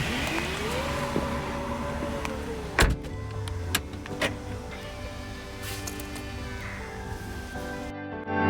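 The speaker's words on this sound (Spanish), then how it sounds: "este botón que sirve también no solo para cerrar el portón, sino para cerrar el vehículo entero" A Volvo V90 D5 AWD Inscription's power tailgate closes with a rising electric motor whine, a few firm mechanical clunks and latching thuds, heard close by in a quiet setting.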